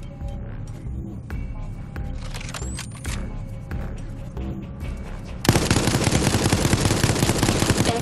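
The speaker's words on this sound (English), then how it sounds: "Use the machine gun skill card to defeat the survivor." Machine gun fire in Resident Evil Resistance starts suddenly after scattered clicks and softer game sounds, becoming a loud, rapid, sustained stream of shots close up.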